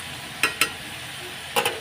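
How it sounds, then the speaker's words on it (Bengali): Snake gourd (chichinga) frying in a pan under a low steady sizzle, broken by a few sharp spatula scrapes and clinks as it is stirred, two close together and then another pair. "এই হচ্ছে চিচিঙ্গা ভাজা একটু নাড়া নাড়াচাড়া দিয়ে দিই ভালো করে ভাজা ভাজা হতে থাক"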